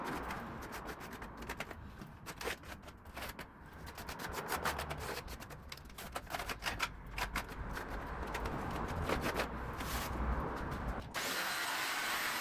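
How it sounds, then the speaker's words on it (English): Jigsaw cutting through plywood in a steady, close, rasping buzz with fluctuating intensity that runs for about eleven seconds and then stops abruptly. "I'll be going ahead and just taking the jigsaw and cutting that out."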